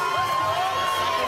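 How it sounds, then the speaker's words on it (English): A crowd at a celebrity bowling invitational cheers and hollers in a steady roar, with voices faintly audible. "He's getting the crowd into it."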